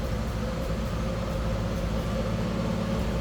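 A 1963 Mercury Comet's 200 cubic inch inline six idles steadily at close range, a constant low, even rumble with a faint hum on top that stays unchanged throughout.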